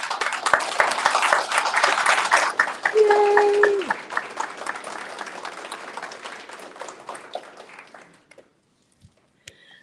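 Applause from a crowd at an employee awards ceremony, loud and dense at first with a voice cheering briefly amid it, then thinning into scattered claps and fading to near silence.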